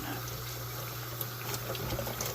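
Reef tank filter sock rinsed under a running tap, a steady close splash and hiss of flowing water over a low hum.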